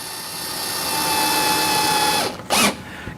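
A power drill whines steadily while driving a screw into a rotating shoe rack during assembly, then cuts off and gives a brief second whirring burst.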